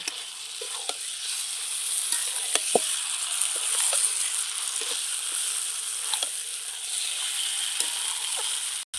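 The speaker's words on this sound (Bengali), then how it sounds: "এইবার আমি মেখে রাখা চিকেনটা দিয়ে দিচ্ছি সঙ্গে চিকেনটা খুব সুন্দর করে কষিয়ে নেব" Marinated chicken frying in a pan of spiced masala for chicken do pyaza, a steady loud sizzle with occasional soft stirring scrapes and no talking.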